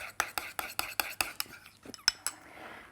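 Spoon or whisk mixing fresh lemon juice and chili in a bowl for a prawn po' boy, a quick run of rhythmic clinks and taps against the bowl, fairly close and quiet.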